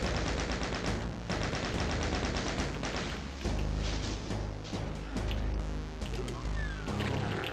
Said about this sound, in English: You can come back up here and just shoot those enemies with the chain gun from up here.